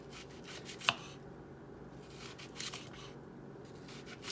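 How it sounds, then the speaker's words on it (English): A knife cuts an onion lengthwise for chicken fajitas, with one sharp crisp cut and then soft, quiet slicing and rubbing noises. "you're gonna cut it the long way, because this onion looks pretty already"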